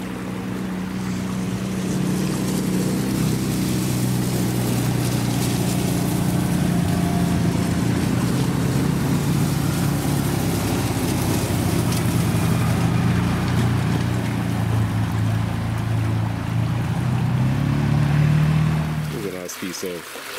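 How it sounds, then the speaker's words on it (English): Motorbikes approach along a New Zealand river area, their engine drone building steadily louder over many seconds before cutting away as they pass, with some talk in the background. "Here come the motorbikes."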